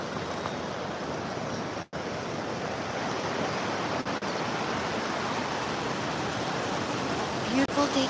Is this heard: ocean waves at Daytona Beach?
yes